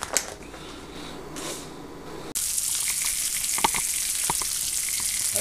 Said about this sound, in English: Let's get some fried up in the pan.